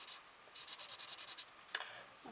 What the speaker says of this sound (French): je vais le colorier quand même